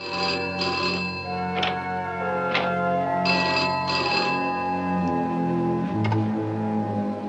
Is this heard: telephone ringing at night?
yes